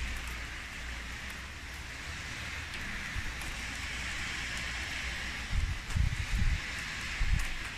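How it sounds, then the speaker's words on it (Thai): Heavy rain falls steadily as a dense, even hiss close by, with a few low thumps of drops or handling noise toward the end and no talking. "วันนี้ฝนตกเยอะมากเลยอ่ะ ตกตั้งแต่เมื่อคืน"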